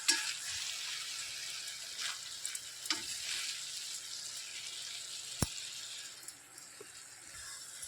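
Tomatoes being stirred into a frying brinjal (eggplant) curry in a pan make a soft, faint sizzle broken by a few sharp spoon clicks and scrapes, close by and with no talk.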